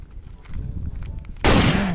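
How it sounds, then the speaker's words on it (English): A Captain America toy gun goes off with a sudden loud burst of sound and a sweeping tone, following a low rumble of background noise outdoors near a tree. "Good Captain America gun"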